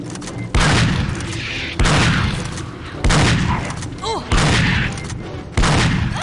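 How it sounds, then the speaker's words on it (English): Heavy shotgun blasts in the video game Aliens vs Predator 2: Primal Hunt, five loud booming shots spaced about a second apart, each with a sharp attack and a short decaying tail. "This is why I don't like using shotguns."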